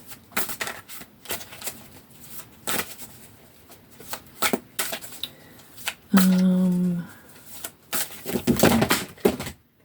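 Large tarot cards are shuffled in several quick riffling bursts, with close handling clatter and a short tonal hum partway through.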